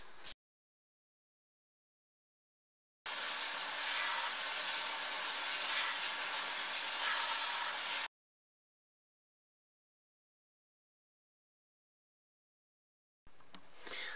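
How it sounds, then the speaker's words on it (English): Power tool grinding a twisted 11x11 puzzle cube with a Dremel or belt sander: one steady, loud, hissing whir running about five seconds, then cutting off into silence, with a brief burst at the edges. "I'm going to use a Dremel and a belt sander"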